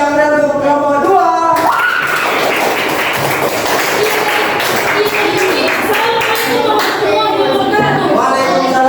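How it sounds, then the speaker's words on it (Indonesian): Classroom applause for a student group, a dense burst of clapping with some cheering and voices mixed in, filling the space loud and close throughout after a brief bit of talk at the start. "Beri tepuk yang meriah untuk kelompok dua."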